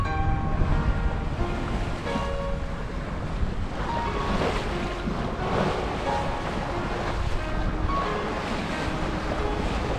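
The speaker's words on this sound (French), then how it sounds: "Voilà le reliquat de la houle d'hier" Steady roar of Atlantic ocean swell with waves washing in continuously on the Brittany coast, mixed with gusts of wind buffeting the microphone; no voices.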